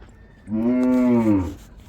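A bull gives a single long, low moo, close and loud, lasting about a second before fading out, at a bullock cart race.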